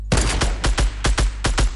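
Rapid bursts of video game gunfire crack out in about seven loud, evenly spaced volleys, each a short sharp blast with a booming low tail, heard alone without voices.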